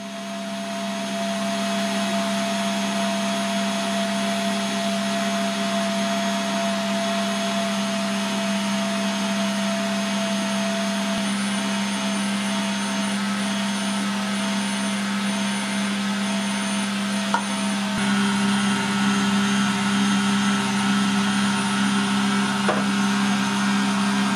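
Silvercrest SPM 220 A2 pasta machine kneading dough, a steady motor whir with a constant mechanical hum, loud and continuous throughout with a slight change in tone partway as the load shifts.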